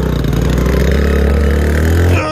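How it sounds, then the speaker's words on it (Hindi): Honda CD 70 motorcycle stuck in mud, its small single-cylinder engine revving hard with a loud, close, pulsing drone that rises in pitch before abruptly dropping off at the end. "इनकी मोटरसाइकिल फंस गई है"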